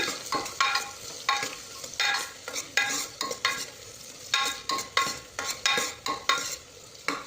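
Chopped onion frying in a pan for tomato bath, a steady sizzle under repeated scraping stirs from a spoon, loud and close with no voices.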